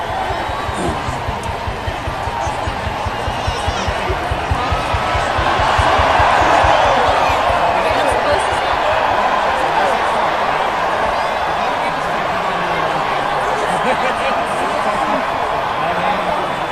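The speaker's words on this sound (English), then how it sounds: "Boy, oh boy, is the crowd loving it" Viewers at a Women's World Cup watch party in Port Harcourt, following the Super Falcons against England, cheer in a constant roaring crowd din that swells midway, with voices blending into the noise.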